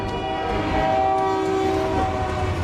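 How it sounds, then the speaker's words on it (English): A train horn blares over the steady rumble and clatter of rolling railcars in a film scene, a sustained loud tone holding for about a second before easing back under the continuous rail noise. "Right on time with the train."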